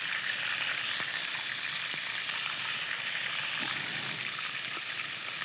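Oysters fry in a pan with a steady, close hiss and crackle of juice spitting from the shellfish, a few faint clicks breaking through the continuous sizzle, no voices.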